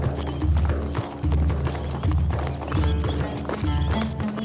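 A horse's hooves clip-clop in a steady rhythm, accompanied by whinnying, all set under a loud music bed with no talking.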